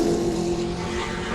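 A GT race car passes at Sebring, its engine a loud, steady droning roar heard close and alone.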